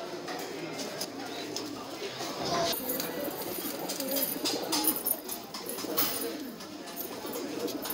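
A Kaldumma Phulchira pigeon with clipped wings coos softly and low in the background, under a steady rustling hiss of handling and surroundings, with no clear speech over it.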